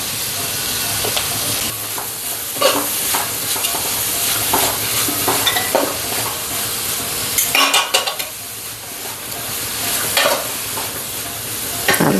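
Sliced onions with a pinch of turmeric sizzle and fry in a pan for beef curry, with steady crackling and repeated scraping stirs of a utensil against the pan throughout.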